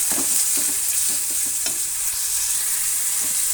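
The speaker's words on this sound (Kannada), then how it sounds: "ಈಗ ಇವನ್ನೆಲ್ಲ ಕೂಡ ನಾವು ಫ್ರೈ ಮಾಡ್ಕೊಂಡ್ಬಿಡೋಣ." Tomato, onion and mustard seeds fry in hot oil for a village-style sambar, giving a steady close sizzle with soft stirring scrapes throughout and no voices.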